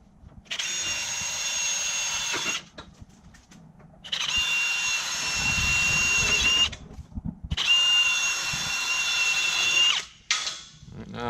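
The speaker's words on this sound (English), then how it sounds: "Now after you have them all pre-drilled," A power drill pre-drills holes for a Ryder Rack Bolt installation, whining steadily in three long runs of about two to three seconds each with brief pauses between, close and fairly loud.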